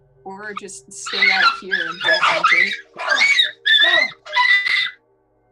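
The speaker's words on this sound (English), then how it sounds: "What was that? that was a dog fight?" Snarling, yelping dog fight sounds in a tabletop fantasy adventure game session, a run of loud growls and shrieks over several seconds, starting just after a person speaks briefly.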